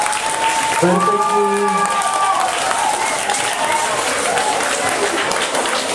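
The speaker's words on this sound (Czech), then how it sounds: "Zatleskujte si." Students clapping at a school educational concert, a dense burst of applause from a hall full of pupils that runs steadily throughout, while an adult speaks briefly over the start.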